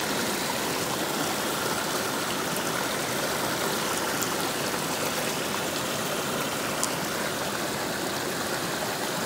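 A river rushes steadily, a continuous broadband wash of flowing water heard up close with no voices.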